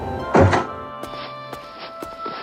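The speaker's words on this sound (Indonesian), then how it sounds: "dia mendengar pintu terbuka." A door opening indoors: one solid thunk near the start, then a few soft clicks and taps over a quiet room tone.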